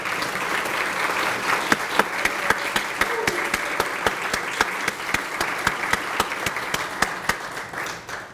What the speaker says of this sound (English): we want to give you a large round of applause